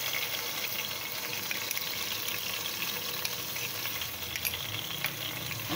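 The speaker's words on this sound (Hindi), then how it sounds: "अब हम इसको बहुत अच्छी तरह से भूनेंगे ताकि इसकी बहुत अच्छी से खुशबू आ जाए इसके अंदर" Ginger garlic paste frying in a pan for mutton paya gives a steady, even sizzle with a soft crackle, continuous and moderately close throughout, with no voices over it.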